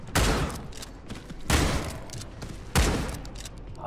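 Three heavy shotgun blasts from the video game Redeemer, each a loud booming burst with a long decaying tail, spaced roughly a second and a quarter apart, with no talk over them.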